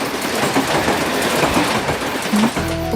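A train runs along the rails close by, with a continuous loud rumble and clickety-clack from the wheels. A horn-like tonal sound comes in at the very end.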